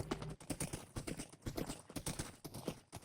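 A horse in the block-building game Minecraft clip-clops along at a brisk trot, crisp evenly spaced hoof clicks repeating throughout, fairly quiet and with no voices.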